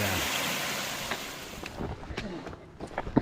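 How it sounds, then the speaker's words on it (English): A small, quick mountain stream flows beside a steep hiking trail up Mount Madison in New Hampshire, giving a broad rushing wash that fades slightly, with wind buffeting the microphone. "Quick little stream that we have to pass across on our way up Mount Madison."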